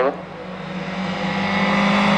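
Opel Corsa hillclimb race car with a roughly 210 PS engine, heard at an EDDA Cup mountain race, its steady engine drone building slightly in loudness over a couple of seconds, fairly close, with some voice beneath.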